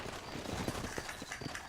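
Horse hooves clip-clop at a steady trot in the Red Dead Redemption video game, a short burst of repeated close hoofbeats over a busy background bed.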